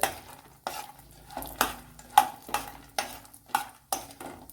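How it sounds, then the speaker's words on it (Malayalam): Ingredients for a hotel-style chutney frying in a pan, with a utensil scraping and stirring in repeated strokes roughly every half second over a faint sizzle, close and fairly quiet. "ഇതിനെ ഒന്ന് ഫ്രൈ ചെയ്തെടുക്കുക."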